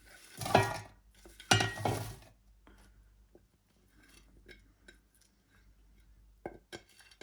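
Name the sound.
frozen onion cubes added to the pot for chicken pulao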